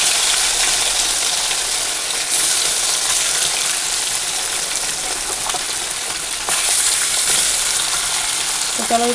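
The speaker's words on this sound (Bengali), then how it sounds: "ওর মধ্যে একটু তেল দিয়ে দিলাম যে মাছগুলো ভেজে নেবো" Bata fish frying in hot oil in a wok, a loud continuous sizzle and crackle throughout with a couple of brief surges, no talking.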